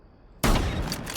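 A single loud shotgun blast from Rainbow Six Siege cuts in sharply after a short quiet lead-in and then rings out in a broad, close boom that fades slowly.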